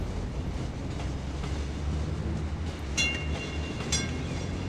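A tram in a city-building video game rumbles with a steady low rolling drone, joined by a couple of brief bright metallic squeals near the end.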